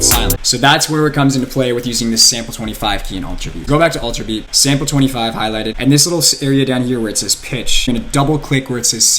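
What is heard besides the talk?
No everyday noise stands out behind the speech.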